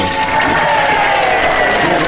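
Applause plays as a reward in the Mystery Case Files: 13th Skull video game after a puzzle is solved, a steady, dense wash of clapping that holds at an even level for about two seconds.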